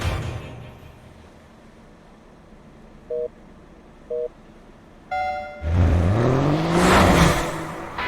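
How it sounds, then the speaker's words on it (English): In an anime qualifying session, a race car engine starts up after two short beep tones and a rising whine. The car launches hard and its revs climb loudly as it pulls away. "The 885 car shoots out!"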